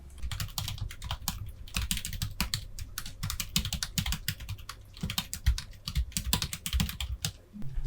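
Rapid, continuous keystrokes on a computer keyboard while typing a chart title in a Korean word processor, close and steady with dense clicking throughout and no talk.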